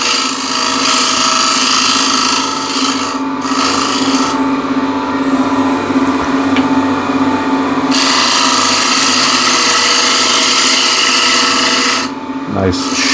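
A spindle gouge takes a shear cut on wood spinning on a lathe while a container is turned. It makes a loud, continuous rasping scrape that pauses briefly a few times, and the tool sits close and dominant.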